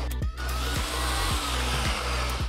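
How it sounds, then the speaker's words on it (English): Blender motor running steadily and loud while chopping cauliflower florets into a rice texture, with a dense whirring drone and repeated brief dips as the blades pulse, no talking. "blend up the cauliflower until it's a rice texture, making sure not to overblend"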